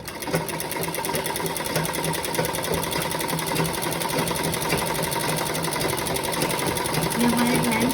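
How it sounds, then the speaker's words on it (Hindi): A sewing machine runs continuously along a marked line on a blouse sleeve, a close, even mechanical hum and rapid needle rattle lasting throughout, with a voice talking faintly over it. "निशान जो लगा हुआ है इसको एक बारी सिल लेते हैं।"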